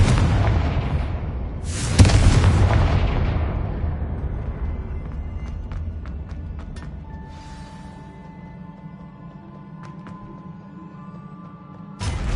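A Confringo fire spell in Hogwarts Legacy goes off as a single heavy, close explosion boom that rolls into a long decaying rumble, followed by faint magical tinkling and hum.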